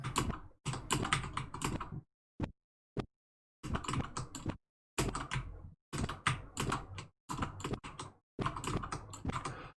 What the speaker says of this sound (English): So my spacebar is about to get loud